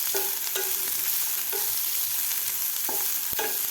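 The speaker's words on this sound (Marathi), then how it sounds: "कांदासुद्धा आपल्याला थोडासा गुलाबी रंगावर भाजून घ्यायचा." Onion frying in oil in a pan for a chawli-potato curry, with a steady sizzling hiss and repeated scraping strokes of a spoon stirring it, close and clear, no talking.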